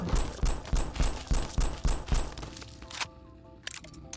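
Rapid rifle shots from an SKS fired in Fallout 4 with a basic 10-round magazine, about ten sharp evenly spaced cracks in the first two and a half seconds, then quieter mechanical clicks and a reload, with a few faint taps near the end.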